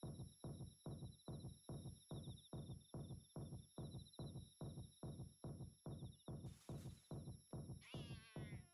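Cat meowing in a video game, a high repeated cry over a loud rhythmic throbbing pulse that beats about twice a second, with a brief burst of noise and chirping near the end.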